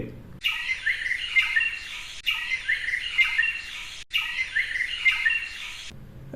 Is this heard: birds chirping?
yes